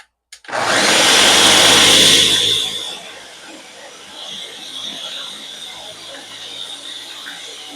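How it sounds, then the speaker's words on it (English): A high-speed blender whirs loudly as it blends dates for a vegan no-refined-sugar dessert, a dense roaring burst of about two seconds that then cuts off, leaving quiet kitchen room tone behind. "This dessert definitely needs a high-speed blender."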